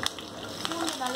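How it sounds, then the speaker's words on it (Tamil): Garlic sizzles and fries in a hot pan for a mushroom pepper fry, giving a soft, steady crackle that stays faint and close, with a few small clinks. "पूंड नल्ला फ्राई आगुम"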